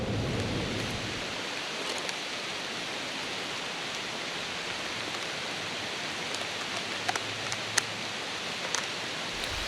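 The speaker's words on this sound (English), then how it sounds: "it's pouring" Heavy rain pours steadily on a wooded area during an early-season deer hunt, a dense, even hiss heard close and continuous, with a few sharper drips and taps near the end.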